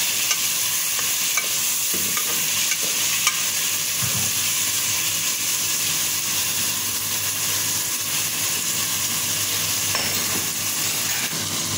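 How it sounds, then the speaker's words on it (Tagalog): Tomatoes and shrimp paste sautéing for pinakbet, a steady loud sizzle and frying hiss running throughout with occasional stirring scrapes in the pan, no talking. "Igisa lang natin yung kamatis. Tapos yung bagoong."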